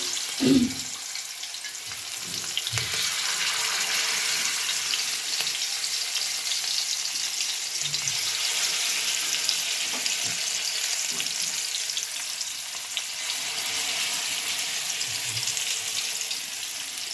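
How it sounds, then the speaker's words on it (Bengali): Steady, continuous sizzling of fish rubbed with salt and turmeric frying in hot oil on a large flat griddle, with occasional soft clinks and knocks from the pan. "মাছটা ভাজা হচ্ছে।"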